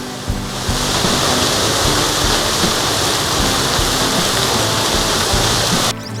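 Roaring rush of a waterfall in Uttarakhand, a dense continuous hiss that stays loud and steady before cutting off abruptly at the end.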